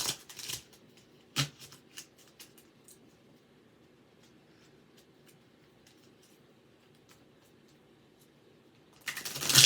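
Angel oracle cards being shuffled by hand, a few crisp riffling bursts at the start and a louder run of shuffling at the end, with a quiet hum between and no talking.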